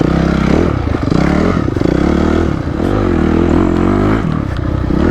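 A carbureted Honda CRF250X four-stroke dirt bike is ridden through tight woods single track, its engine loud and close and constantly revving up and down, with clattering and scraping mixed in.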